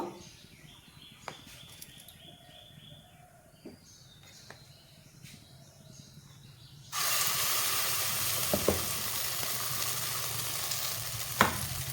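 Batter ladled into a hot kadai with only a little oil sets off a sudden loud sizzle midway, which then holds as a steady hiss with occasional scrapes. Before it there are only quiet kitchen sounds.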